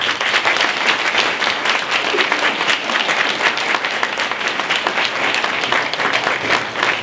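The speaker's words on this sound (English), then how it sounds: "I would like you to join with me in offering a round of applause to these candidates who are willing to serve" An audience at a Prince William County House of Delegates debate applauds the candidates with a steady, sustained round of clapping that keeps an even loudness throughout, with no talk over it.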